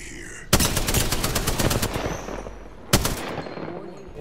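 A fast machine-gun burst in a video game, loud and close for about a second and a half, then a second short burst after a pause.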